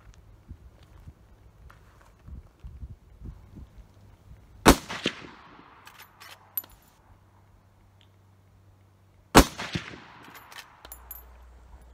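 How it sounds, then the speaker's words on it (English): Two sharp, loud gunshots from a Marlin 30-30 hunting rifle crack about five seconds apart, each followed by a ringing outdoor echo, with quieter clicks and handling noises between them. "I decided to take it out, go out, do a little shooting first of the year"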